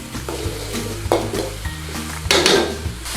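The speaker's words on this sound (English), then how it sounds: "Now this is a very quick stir fry, just to soften them up" Tomatoes stir-fried in a hot pan for a restaurant-style chicken rogan josh, with a steady sizzle and repeated scraping strokes of a utensil against the metal, two sharper clattering stirs standing out, no voices.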